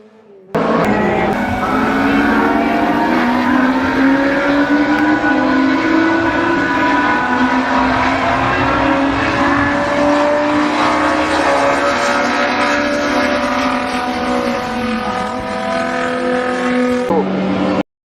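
1980s BMW naturally aspirated four-cylinder engine revving loudly and continuously, its harmonic engine note climbing steadily for about seventeen seconds before it cuts off abruptly.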